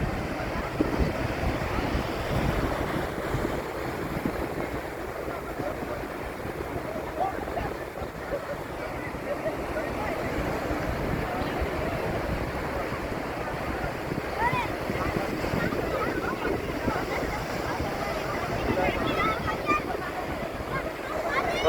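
Strong wind and rough sea waves on rainy Kovalam beach in Thiruvananthapuram make a continuous, loud, blustery roar, with surf and wind buffeting blended together throughout.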